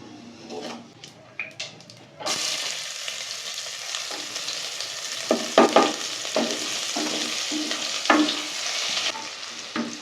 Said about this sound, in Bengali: ওই একই তেলে জিরা দিয়ে দিল জিরাটা একটু ভেজে নিব